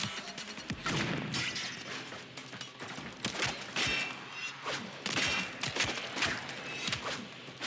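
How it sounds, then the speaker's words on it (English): A grenade bursts amid combat in the video game Warframe, with repeated sharp cracks and booming impacts scattered through a dense, noisy gunfight, no voices audible over the clatter. "Well, that's a grenade."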